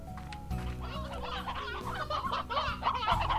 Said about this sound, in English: I have the many chickens.